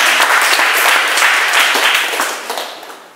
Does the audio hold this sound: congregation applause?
yes